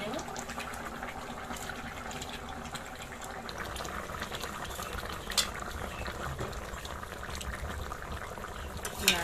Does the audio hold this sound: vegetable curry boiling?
yes